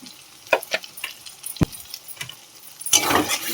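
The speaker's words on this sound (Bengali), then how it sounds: "মশলাটা ভালো করে কষিয়ে নেব।" A turmeric, chili powder and salt spice mix is fried and stirred in a pan for a mustard fish curry, giving scattered spoon scrapes and soft sizzle bursts and ending with a louder, fuller hiss; no voices.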